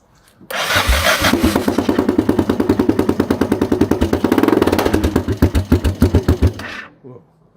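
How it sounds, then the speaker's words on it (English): A 1991 Yamaha XTZ 660 motorcycle runs with its exhaust removed, the engine catching and firing loud, raw, close-up pulses that rise with revs, then slow into spaced thumps before cutting off. "And the sound without exhaust should be this."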